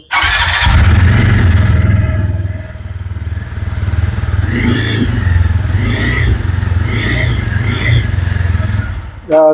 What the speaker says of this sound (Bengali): একজোস্টটা কিন্তু আগের থেকে টোটালি ডিফারেন্ট করেছে যার কারণে সাউন্ডটা কিন্তু অনেক ইউনিক